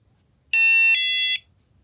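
A KERUI budget wireless alarm system gives a short confirmation beep rather than a siren when armed: one loud electronic tone in two steps lasting under a second, over a quiet room.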